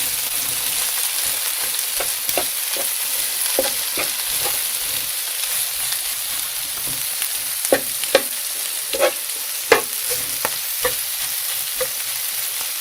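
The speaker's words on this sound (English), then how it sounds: "So I'm going to start breaking this up just like I would ground beef." A lentil mixture with low-sodium soy sauce fries in a pan, giving a steady sizzle broken by scattered scraping and tapping as a utensil breaks it up. No one speaks.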